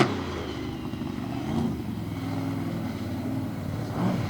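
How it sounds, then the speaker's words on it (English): A Hemi-powered monster truck engine revs at an arena track, a steady distant roar swelling slightly at moments, fairly faint and alone without talk. "Showing off that big Hemi horsepower."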